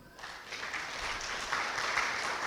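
An audience at a wedding bursts into applause that swells quickly and then holds as a steady, dense clapping for a couple of seconds, with no voices.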